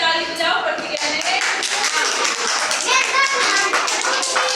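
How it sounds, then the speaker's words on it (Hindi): Children clap together in a classroom setting, a dense, steady burst of many small hands filling the whole stretch at close range, with a few young voices mixed in. "इसके लिए ताली बजाओ"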